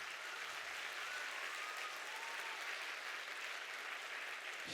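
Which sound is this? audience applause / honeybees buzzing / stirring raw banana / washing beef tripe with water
audience applause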